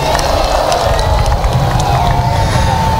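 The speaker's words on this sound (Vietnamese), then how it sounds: "Chúng ta hãy chào nhau bằng một tràng pháo tay thật nồng nhiệt." A church congregation gives sustained warm applause during a Marian flower-offering ceremony at Sở Kiện in the Hanoi archdiocese, a loud, dense, continuous wash of many hands clapping that fills the space.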